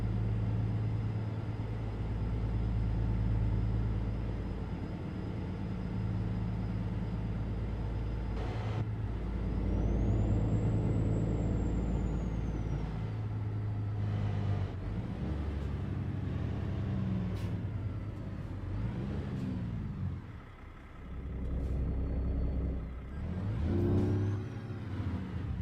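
A truck engine revs under a canopy, a deep steady rumble rising and falling as it echoes, with hissing bursts like air brakes and squeaky whines toward the end, moderately distant and without talk.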